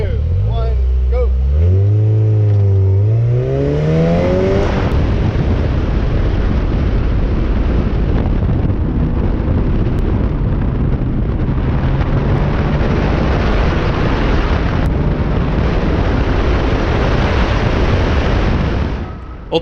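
A Mazda Miata NC launches on an autocross run, the engine revving up sharply through quick rising gear pulls, then holding a loud, steady, close drone for the rest of the run.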